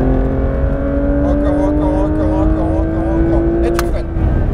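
A Porsche 992 GT3 RS on the Fontenay-le-Comte circuit pulls hard under throttle, its engine note climbing steadily from inside the car, with an instructor talking over the loud, continuous drone.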